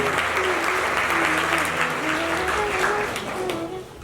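Indoor audience applause at a community event for a Balboa Park cottage, a steady, dense wash of clapping lasting throughout, with a tonal hum underneath.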